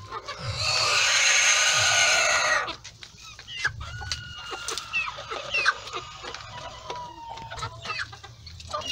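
Two laying Brahma hens kept without a rooster give a loud, harsh burst of calling, then a run of scattered near clucks and short squawks.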